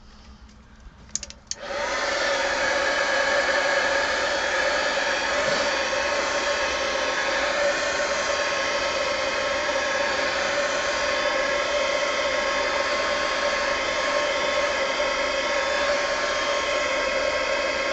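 After a brief click, a heat gun roars on and blows hot air over an art journal page, a loud, steady whooshing drone with a faint whine that runs unbroken with no speech.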